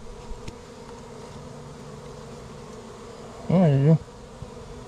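Bees swarm steadily around a shed wall where a colony has moved in, a continuous near buzzing throughout, with a louder close buzz of a single bee swelling briefly near the end and someone speaking a few words.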